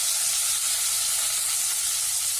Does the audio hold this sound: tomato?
yes